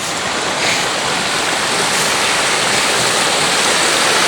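Loud, steady rush of fast-flowing floodwater by a rice paddy, a continuous broadband roar with no breaks and no voices.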